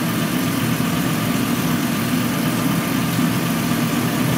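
A 2007 Chrysler Pacifica engine with an injector problem idles steadily up close, a constant low rumble with a faint vibrating hum and no talking.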